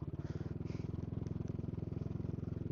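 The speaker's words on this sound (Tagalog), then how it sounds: "Hindi pa naman adventure bike ang motor natin." A motorcycle putters along a slippery, rough mountain road at low speed, its engine thumping in a fast, even rhythm with faint clatter over the top.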